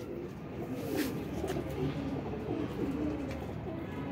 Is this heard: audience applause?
no